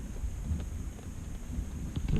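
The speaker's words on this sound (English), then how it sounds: "In case she woke up from the thunder." Low, rumbling thunder rolls through a storm, heard from a garage at night, a continuous muffled rumble with wind-like noise and no voices.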